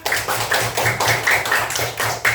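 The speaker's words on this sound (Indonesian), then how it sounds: "tepuk tangan dulu anak." Schoolchildren clap together in a classroom, sharp close claps falling in a loosely rhythmic series of bursts with faint voices mixed in.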